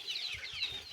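Chickens cluck and chirp softly at a distance in a quiet farmyard, a brief overlapping patter of faint calls with no talking.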